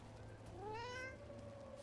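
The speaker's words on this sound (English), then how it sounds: "Do you know this cat?" A cat in a video game gives a single rising and falling meow, clear but quiet over a low steady background hum.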